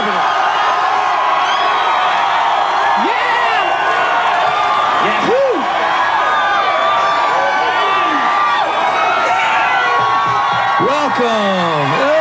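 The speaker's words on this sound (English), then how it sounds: "The crowd is going crazy inside the Much environment." A loud crowd cheering, whooping and shouting as James Hetfield arrives at the Much venue, with rising yells throughout and people talking over the din.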